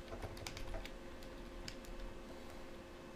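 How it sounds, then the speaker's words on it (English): Typing on a computer keyboard during an online chess lesson: scattered light key clicks tap out at an irregular pace, faint and close, over a steady low room hum. "I'll type it in as well."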